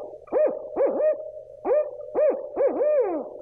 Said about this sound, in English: The barred owl is commonly recognized by its "who cooks for you